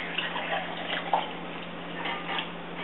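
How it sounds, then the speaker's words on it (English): Homemade butterbeer pours into glass mugs in a steady liquid stream, close and moderately loud, with a few small splashes and gurgles through the pour and no talking. "Pouring them into each glass, an even amount."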